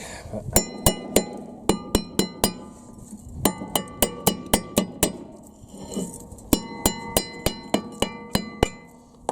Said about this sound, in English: maybe a rubber hammer would work